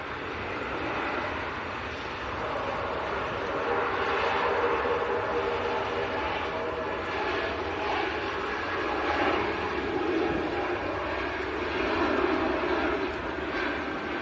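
A Privilege Style Boeing 777 takes off from Manchester Airport, its jet engines a steady, broad roar that holds at a moderate level for the whole stretch, slightly distant and swelling a little toward the middle and end.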